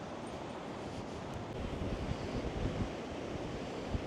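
Waves washing onto the beach at East Runton on a cold, windy day, a continuous broad surf roar mixed with wind buffeting, no talk.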